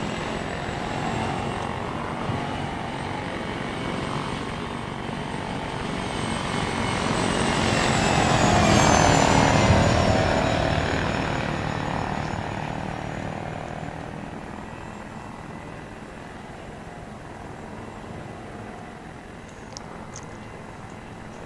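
An Apache attack helicopter in the Arma 3 video game circles a city, its rotor drone swelling loudly as it passes close, then fading into a steady distant throb.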